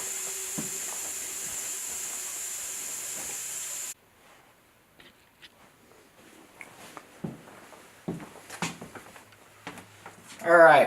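Steam hisses loud and steady from a pressure cooker for about four seconds after its weight is lifted, then stops abruptly, leaving quiet kitchen clatter and scattered knocks.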